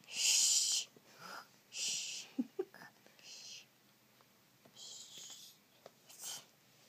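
At bedtime, a voice imitates snoring with a few breathy, wheezy hisses and snorts in short bursts, all quiet, with soft whispery sounds between them.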